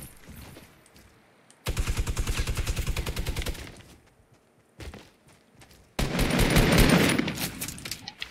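Fortnite gunfire from enemy players: two long bursts of rapid automatic shots, close and loud, separated by quieter gaps with a few isolated thumps.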